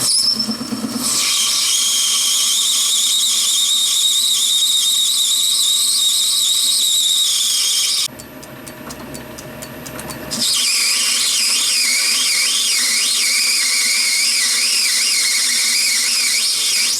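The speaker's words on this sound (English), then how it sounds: "So I've turned that round and I've started machining it." A lathe machining a cylinder for a model engine gives off a loud, steady high-pitched cutting whine and squeal. It breaks off briefly for a couple of seconds midway, then resumes at full strength.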